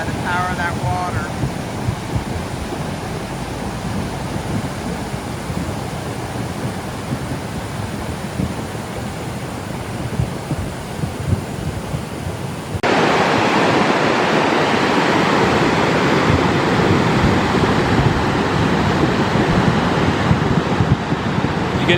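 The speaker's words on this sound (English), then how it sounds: "You can hear the boulders churning." A glacial mud river in the Pacific Northwest surges powerfully, shifting boulders along its bed; a loud, continuous roar of rushing water dominates, growing noticeably louder and fuller about halfway through.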